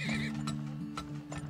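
Horses neighing in the video game Turmoil, a whinny with wavering high tones near the start amid clicking mechanical ticks and soft clip-clop taps, fairly quiet and close.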